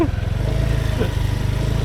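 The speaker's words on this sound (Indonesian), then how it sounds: "Ada motor ibunya." A motorcycle engine runs steadily close by, a low, evenly pulsing drone that holds without revving.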